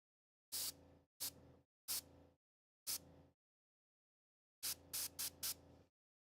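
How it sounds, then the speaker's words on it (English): Airbrush spraying paint in short hissing bursts for blending, four separate sprays followed by a pause and then a quick cluster of four more, close and crisp against silence. "Little airbrush blending for you"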